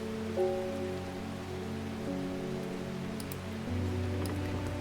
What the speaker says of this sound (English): The rain is such a nice little touch.